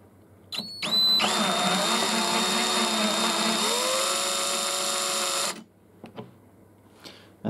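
A hand drill spins a primer pocket uniforming tool in a 6.5x47 Lapua rifle case held in a vise, running steadily for several seconds with a high whine, then shifting pitch before stopping, followed by faint handling clicks.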